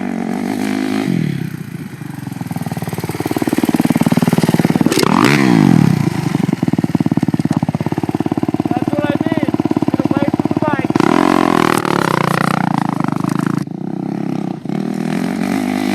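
A dirt motorcycle rides away close by after a nose wheelie, its engine revving and dropping in rising and falling sweeps, with clatter and scraping from the bike and a voice talking over parts of it.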